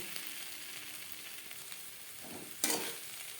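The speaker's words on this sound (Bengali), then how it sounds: "ডিমের সাথে পেঁয়াজ কলি বেশ ভালো করে মিক্সড করে দেব" Fish eggs and chopped spring onion are stirred in a hot pan, giving a steady soft sizzle with light scraping and one sharper, louder stir toward the end.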